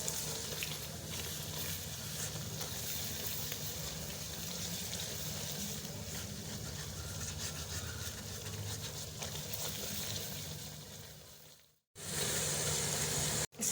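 Black pepper, salt, turmeric and cumin fry in a pan for quail karahi, a steady broadband sizzle that runs close and unbroken for about twelve seconds, then cuts to near silence before a brief return.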